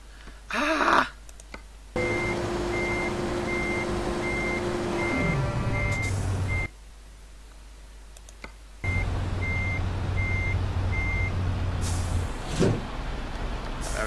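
A reversing beeper on a MAN Euro 6 XL truck in Euro Truck Simulator 2 pulses in regular repeated beeps over a steady diesel engine drone while the trailer is backed up, with brief cuts and pauses between stretches.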